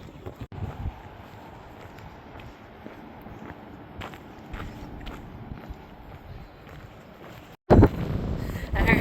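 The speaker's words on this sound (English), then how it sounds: "Wind is actually already doing stuff, and it's just gonna build a lot more" Wind gusting across an open Oregon coast beach near a state park campground, a steady broadband rush with buffeting against the microphone, a louder gust surging near the end, and faint crunching steps underneath.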